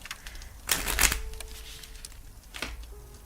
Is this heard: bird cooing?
no